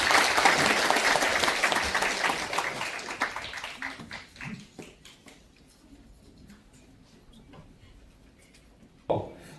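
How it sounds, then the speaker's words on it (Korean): Audience applause after a lecture at a residents' briefing on an urban public housing project, loud and dense at first, then thinning to scattered claps and fading out, with a short sharp knock near the end. "좋은 말씀 들려주신 박상현 대표님께 다시 한번 큰 박수 부탁드리겠습니다"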